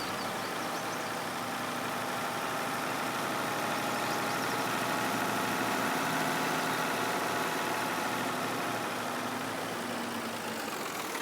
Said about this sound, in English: It's quite nice to have a little tractor on the farm now.